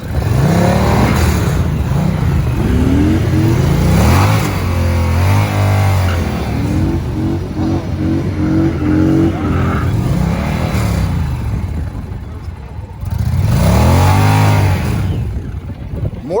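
A Harley-Davidson Road Glide and an Indian Challenger drag race, their big V-twin engines roaring loud and close as they rev hard through the gears with rising and falling pitch, easing briefly before a final strong rev.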